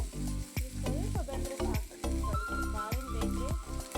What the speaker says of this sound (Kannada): ಈಗ ನೋಡಿ ಈರುಳ್ಳಿ ಅದನ್ನು ಸ್ವಲ್ಪ ಫ್ರೈ ಮಾಡ್ಕೊಬೇಕು, ಜಾಸ್ತಿ ಏನಿಲ್ಲ, ಸ್ವಲ್ಪ ಬೆಂದರೆ ಸಾಕು.